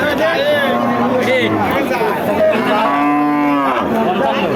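Loud moos from a Deshal breed cow ring out close by at a cattle market, several drawn-out calls over a busy crowd chattering in the background.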